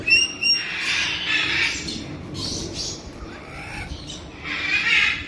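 Sundarbans birds calling inside a glass-fronted zoo enclosure at a deer park, with shrill squawks and chirps at the start and end over a low murmuring background.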